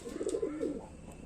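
A Madras pigeon gives a short, soft, low coo, close but quiet, over faint background hiss.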